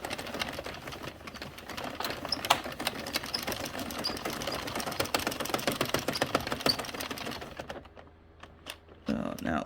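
Addi circular knitting machine cranking Red Heart Comfort yarn, a dense run of rapid mechanical clicks and clatter held close and steady for about eight seconds before trailing off, then a final short burst.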